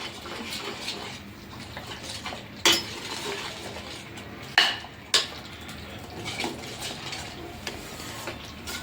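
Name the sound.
stirring butter and garam masala in a pan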